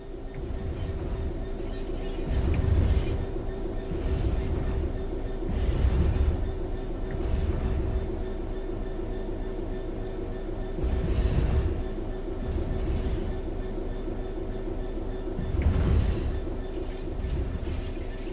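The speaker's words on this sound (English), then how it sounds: "The train will then coast on level ground, and the train will only slow down very gradually." A locomotive in Train Sim World 4 coasts along level rails with a low, steady rumble, swelling every few seconds as the wheels clatter over joints, with no talking.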